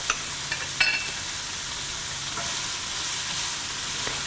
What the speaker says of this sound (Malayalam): ഇത് ഒരു 2-3 മിനിറ്റോളം വഴറ്റണം